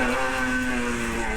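A 1982 Yamaha RD 200 two-stroke motorcycle runs at a steady idle close by, holding an even, buzzing drone with no other sounds.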